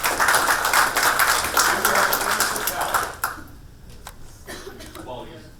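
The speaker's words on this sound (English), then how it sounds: "Let's give a round of applause for the end of our first round." Audience clapping at the end of a first quiz round during a sexuality studies panel event, a dense burst of applause for about three seconds that thins into a few scattered claps.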